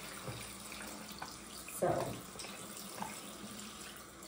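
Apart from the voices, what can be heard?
water running while bathing a silicone doll in a tub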